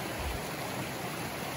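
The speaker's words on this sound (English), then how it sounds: "I don't know the name of this brook. Steep little brook." Steep little brook running down off Mount Washington and Jefferson in New Hampshire, a steady broadband rush of flowing water, close and continuous with no talk.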